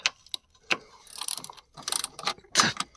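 A worn ratchet wrench with a loose socket slipping and clicking: sharp, close metallic ticks and brief rasping runs in an irregular rhythm, with short quiet gaps between them.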